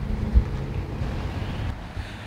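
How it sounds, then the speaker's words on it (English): Wind buffets an outdoor microphone on a cold, windy day beside a Triumph Scrambler 1200 XC motorcycle, a steady low rumble with a brief louder gust near the start and no talking. "it's quite cold and it's quite windy down here"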